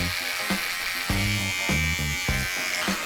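Electric hair clippers trimming the neck hairs of a boy during a haircut, a close steady buzz with short pulsing strokes as the blades touch hair.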